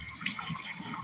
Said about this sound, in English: I'm washing my hands because my hand was in that water.